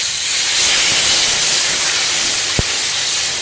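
Water poured onto taro frying in spiced oil sets off a loud, even hissing sizzle up close, constant throughout, broken only by one brief sharp click of a utensil.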